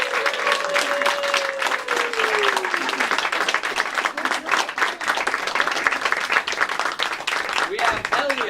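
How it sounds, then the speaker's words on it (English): Audience applause for an improv team at a comedy show, sustained clapping from a crowd of moderate size with a voice speaking over it early on and a brief cheer near the end. "Give them a round of applause."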